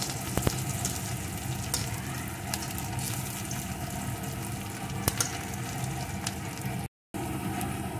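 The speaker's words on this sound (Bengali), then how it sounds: "লঙ্কাটা, পেঁয়াজটা সব একটু ভেজে নিলাম।" Chopped onion and green chilli fry in a pan for baingan bharta: a continuous crackling sizzle with a few sharp ticks and a brief dropout near the end.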